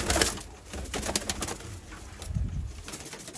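Purebred pigeons, including a female, coo softly in low throaty bursts, with a few brief wing flutters and rustles nearby.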